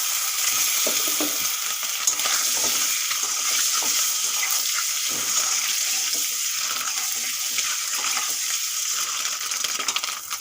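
Duck eggs fry in oil with turmeric, Kashmiri chilli and salt, producing a loud, continuous hissing sizzle with fine crackling that holds steady throughout.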